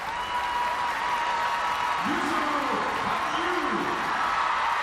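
Figure skating arena crowd applauding and cheering for Yuzuru Hanyu at the 2017 World Championships, a steady wash of distant clapping with a couple of rising whoops and shouts midway.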